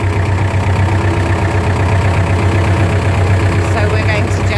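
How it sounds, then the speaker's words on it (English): A tractor engine idles and runs steadily at close range, a constant low throbbing drone lasting throughout with a faint knocking texture, as a rider moves about with it on a farm. "I'm now trundling about in the tractor."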